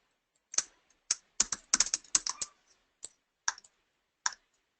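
Keys on a computer keyboard are typed in quick bursts and single taps while a short folder name is entered in a file manager, close and alone.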